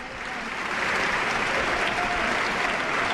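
Sustained audience applause in the chamber of Congress, a large crowd clapping steadily and loudly throughout, rising slightly at the start and holding at full strength.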